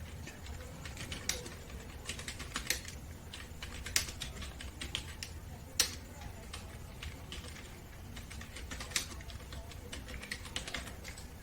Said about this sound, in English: then just need to update and upgrade sudo and